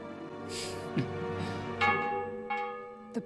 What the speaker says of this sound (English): The bell. You hear it too?